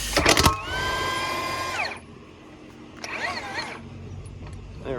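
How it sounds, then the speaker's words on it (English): An Ingersoll Rand impact wrench hammers briefly, then whines steadily as it spins a lug bolt out of a John Deere 4840 tractor's dual wheel, followed by a short second burst of spinning, loud and close. "I'm going to take this last lug bolt out."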